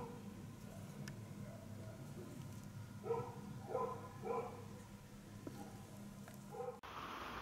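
A dog barks several times in short bursts somewhere in the background of a cactus and succulent greenhouse, faint and distant under a low steady hum.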